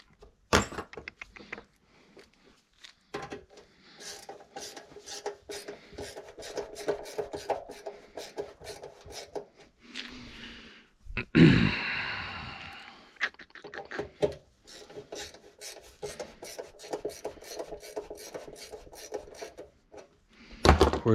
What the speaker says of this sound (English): Let's get these screws back in, and this is a done deal